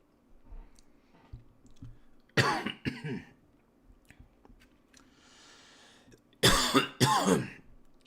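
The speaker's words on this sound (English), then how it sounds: "I keep coughing though." Two bursts of harsh coughing close to the microphone, each a quick pair of coughs, with quiet mouth clicks and chewing of nachos between them.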